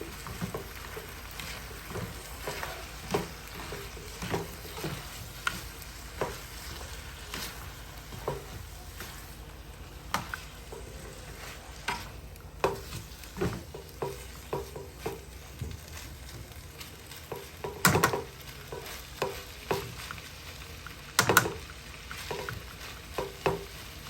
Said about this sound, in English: Just gonna mix everything together.